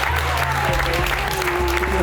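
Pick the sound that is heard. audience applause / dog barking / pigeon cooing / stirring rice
audience applause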